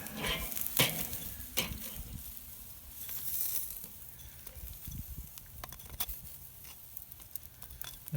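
A venison roast being reverse-seared on a Weber kettle grill with a Slow N' Sear sizzles and crackles softly as it is flipped, with scraping and clinks of tongs over a steady low hiss, no talking.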